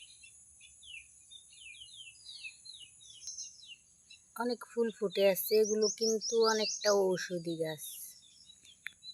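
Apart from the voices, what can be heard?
birds chirping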